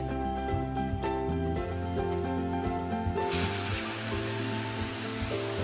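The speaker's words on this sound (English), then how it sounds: "Then heat it with the gas burner." A cartoon gas burner heats metal for welding, starting as a sudden loud, steady hissing roar partway through after a stretch of tonal background music, then continuing without a break.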